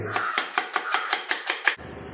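Rapid knife chops through onions, about nine crisp strikes in a quick steady rhythm, close and clear, then they stop.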